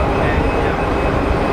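A Swiss-built Pilatus PC-12 single-engine turboprop departs Geneva Airport, giving a loud, steady broadband roar that holds evenly for the whole short stretch, with no talk over it.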